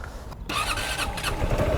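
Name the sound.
automatic motorcycle engine revving at driving school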